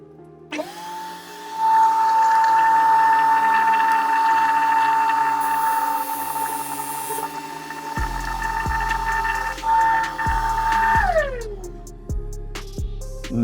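A disc belt sander spins up and grinds a chamfer into wood, holding a loud steady whine for about ten seconds before winding down, with a dust collector humming throughout and no talking.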